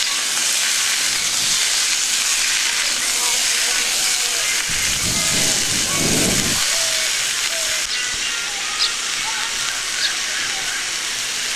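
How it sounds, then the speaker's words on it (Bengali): Loud, continuous hiss of potatoes frying in hot oil, with a brief low rumbling clatter in the middle and faint clicks later. "আলুগুলো দিয়ে দিচ্ছি আলুগুলো ভাজা ভাজা করে নেবো বেশ ভালো করে"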